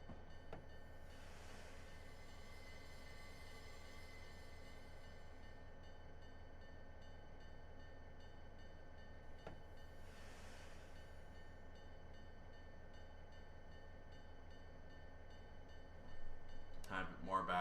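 SD40-2 diesel locomotive in a train simulator game on Sherman Hill, a low steady rumble with two soft hissing brake releases and a louder clunk near the end, quiet overall.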